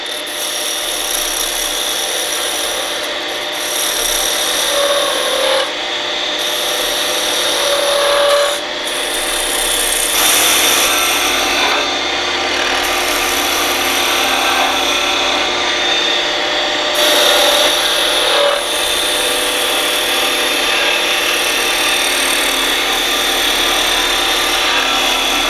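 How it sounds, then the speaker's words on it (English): A skew chisel planes a spinning wood blank on a lathe toward a perfect cylinder, producing loud, continuous rasping and scraping with slight surges and dips as the cut moves along the piece. "Now we'll just use the skew to plane this to a perfect cylinder."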